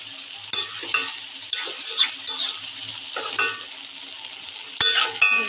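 Pointed gourd (potol) being turned in a pan as its water cooks off, with repeated close scraping and stirring strokes over a faint, steady sizzle and occasional sharp clinks of utensil against metal.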